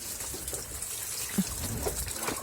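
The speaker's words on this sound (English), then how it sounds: "The water's running down into the water container below" Water trickles and drains steadily from a seedling tray of peat-started tobacco seedlings into a container below, a continuous close splashing dribble with small drips popping out now and then.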